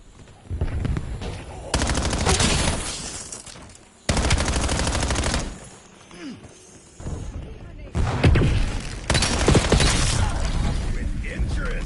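A frag grenade in a video game, heard as loud bursts of gunfire and blasts in dense, repeated volleys that stop and start with short quieter gaps between them.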